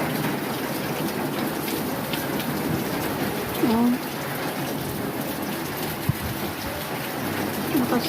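Typhoon wind and heavy rain roar in a steady, dense wash close to the microphone, trees being battered, with a short voice exclamation heard briefly.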